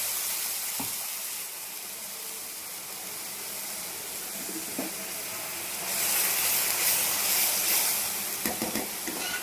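Cumin seeds, a bay leaf and ground spice paste sizzling in a hot wok: a steady, close hiss that swells louder partway through, with a few faint clinks of a utensil.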